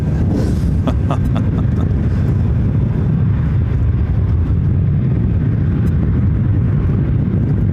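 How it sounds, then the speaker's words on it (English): Strong wind buffeting the microphone at Ontario International Airport in California, a loud continuous rumbling roar with some faint whine, no voices. "that wind is picking up once again"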